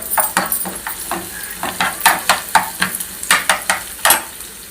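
Onion stirred and frying in a pan for chole bhature, a steady sizzle broken by a run of regular scraping stir strokes, close and fairly loud.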